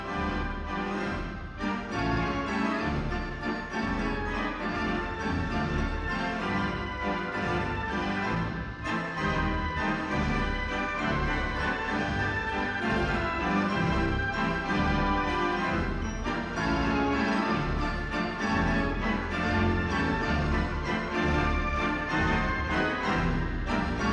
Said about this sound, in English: the inevitable Dutch street organ that sounds something like this